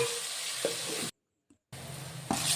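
Onion and tomato sautéing in oil in a kadai, a soft steady sizzle that cuts out briefly to near silence, then resumes with a faint clatter.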